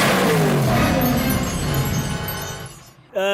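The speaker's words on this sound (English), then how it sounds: "you just tore your aluminum drive shaft into 16 pieces" A Factory 5 Cobra's engine revs hard and winds down as its aluminum drive shaft tears apart, followed by a sudden tonal clank at the end.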